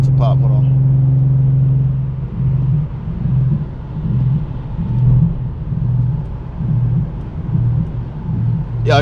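Deep, droning exhaust rumble from inside an Infiniti G37 with Vibrant resonators cruising at highway speed, with a low pulsing hum that rises and falls slightly.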